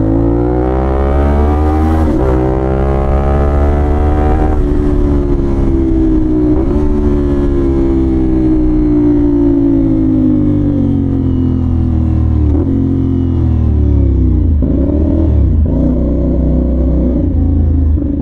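A motorcycle engine revs loud and close at high RPM, pitch climbing and then dropping at each gear shift across several changes as the bike accelerates, with no speech over it.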